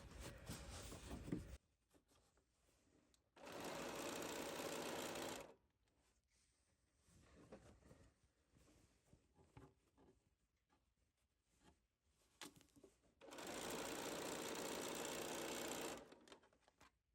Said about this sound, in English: I want to sew just a needle width to the left of my original stitching